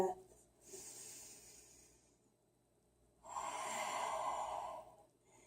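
Deep breathing during a yoga forward fold: a soft exhale, a quiet pause, then a longer, stronger breath through the nose, close and intimate.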